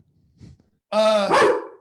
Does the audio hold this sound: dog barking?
yes